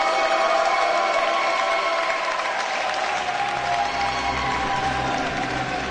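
A crowd applauds and cheers steadily at a chessboxing world championship match in Riccione, Italy, dense continuous clapping that stays loud throughout.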